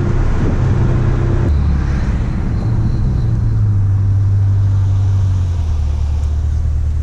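A salvaged cammed Corvette engine pulls hard under acceleration, heard loud from inside the car as a deep rumbling drone whose pitch shifts and then climbs steadily over road roar.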